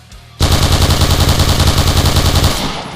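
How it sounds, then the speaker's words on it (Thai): An L86 LSW machine gun in the Point Blank video game fires nonstop at a wall in one long, loud, rapid burst. The burst begins after a short quiet lead-in and runs for more than two seconds, with a fast, even rattle of shots. "ยิงกำแพงนะ แต่อันนี้แรงถีบกระสุนแบบกดค้างเลยนะครับ"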